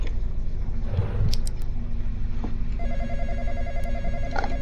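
A telephone rings in a Roblox horror game, a repeating electronic ring pattern that starts partway through and sits over a steady low rumble of game ambience, with scattered clicks and thumps.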